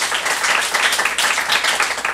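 Church congregation applauding during a Saturday worship sermon, a dense steady crowd clapping that holds evenly for a couple of seconds with no voices on top.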